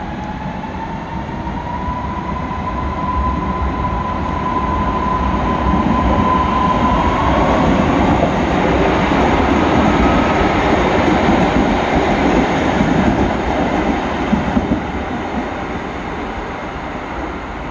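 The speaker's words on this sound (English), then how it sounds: "here's a modern train departing" A modern train pulls away from a station in Wroclaw with a steady, loud rumble of wheels and motor, a rising whine gliding upward as it gathers speed.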